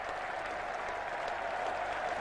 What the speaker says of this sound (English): The cheer tells the story.